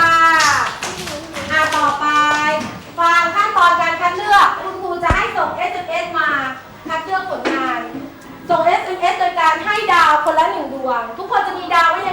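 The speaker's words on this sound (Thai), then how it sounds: "ปรบมือให้พี่ชาค่ะ" Children clap their hands in a classroom, with scattered, uneven claps mixed under loud, continuous chanting and talking voices nearby.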